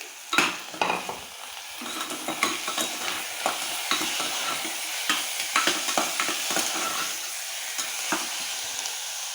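Mutton pieces tossed into a pan of browned onions, sizzling and frying steadily with frequent stirring scrapes and clatters, close and fairly loud, with no talking.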